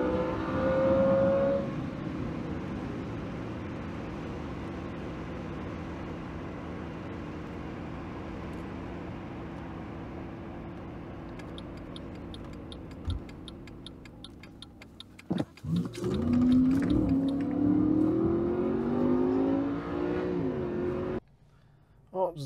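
A 2015 Ford Super Duty pickup with a 6.2L engine, freshly fitted with new ignition coils, cruises along with a steady engine drone, a rapid ticking over the engine later on, and revs rising and falling toward the end.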